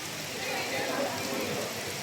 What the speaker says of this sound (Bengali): এত সুন্দর বৃষ্টিটা, খুব ভদ্র বৃষ্টি না আজকে, খুব সুন্দর একটা বৃষ্টি